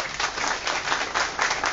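Audience applause at a memorial meeting for the martyrdom day of Bhagat Singh, Rajguru and Sukhdev, a steady wash of many hands clapping with rising and falling swells, no voices over it.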